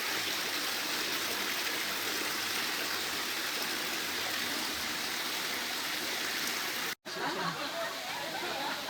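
Water pours steadily from the seven spouts at the Tirta Gangga water garden in Bali, a continuous close splashing rush that carries on throughout, briefly cut by a short gap near the end.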